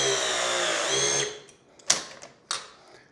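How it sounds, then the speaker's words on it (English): A Milwaukee ProPress tool runs for about a second with a steady motorized whine while crimping a copper fitting for a tankless water heater valve kit, then releases with two sharp clicks. "take our Milwaukee Pro Press, hold the fittings together,"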